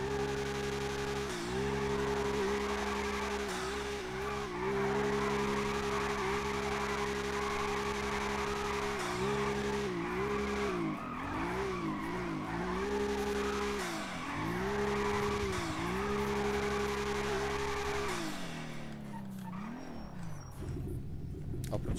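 A drifting car in a video game revs hard, its engine note holding steady then dipping and rising in quick wavering swells over a constant rumble and tire noise, loud and continuous, fading at the end.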